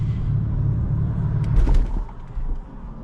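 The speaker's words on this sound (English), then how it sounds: "The car shut off again" Pulling away in first gear without the clutch, a manual BMW M3 stalls: a steady engine rumble lurches into a brief jolting thump and then cuts out.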